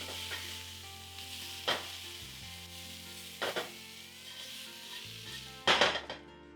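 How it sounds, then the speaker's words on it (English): Sautéed cauliflower tossed with potatoes in a pan gives a soft, steady sizzle, broken by a few sharp scrapes and clinks of a utensil against the pan. "Now remove the cauliflower and mix it together with the potatoes."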